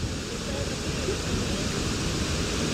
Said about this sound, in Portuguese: essa cachoeira ela faz uma queda d'água muito forte